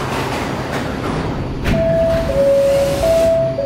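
A Roblox video game D subway train rumbles steadily, with a thin tonal whine rising out of the noise partway through as it runs.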